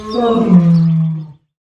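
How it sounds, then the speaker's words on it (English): A lion roars once, loud and close, a deep sustained growl that swells and then cuts off abruptly after about a second and a half, with no other sounds around it. "The sound of the lion is of very high amplitude than that of the bird."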